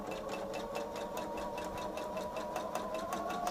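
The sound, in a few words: sewing machine stitching fabric pieces for a table runner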